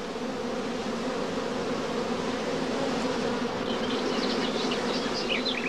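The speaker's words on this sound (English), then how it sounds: "When this character is pronounced, the bees form a dense covering on the comb." A dense, continuous buzz of many honeybees droning together close by on the comb, steady and unbroken throughout.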